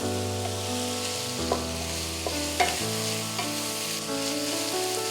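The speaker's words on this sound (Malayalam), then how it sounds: "ലൈറ്റ് ബ്രൗൺ കളർ ആവുന്നത് വരെ കുഞ്ഞുള്ളി ഒന്ന് വഴറ്റിയെടുക്കാം" Small shallots sautéing in a pan until light brown, a steady close sizzle with occasional scraping stirs of a spoon, under a soft background music bed.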